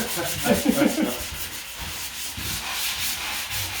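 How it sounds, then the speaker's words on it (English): Continuous scratchy rubbing of sandpaper against wood, in close, rhythmic back-and-forth strokes. "I'm going to keep going with this sanding"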